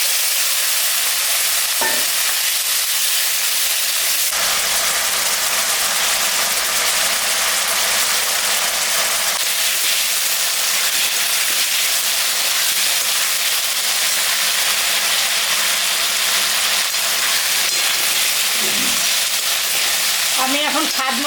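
Elephant foot yam and potato pieces fry with onion in a hot pan, a loud, continuous oily sizzle with occasional scrapes and clinks of stirring throughout.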